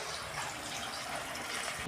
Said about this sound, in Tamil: இப்போ வந்து மழை தண்ணி ஊற்றிக்கலாம்.